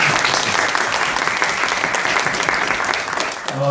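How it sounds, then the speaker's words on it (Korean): Audience applause for professors at a university lecture, a dense sustained clapping that fills the room, loud and steady, fading slightly at the end as a voice begins. "우리 박수 한번 부탁드리겠습니다"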